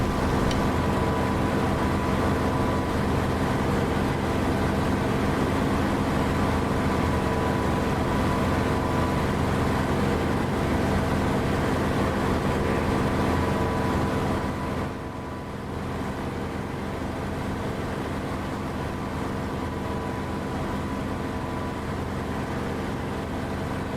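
Aircraft engine in the DCS flight simulator game, a steady loud drone that holds throughout, dipping briefly in level around the middle before continuing.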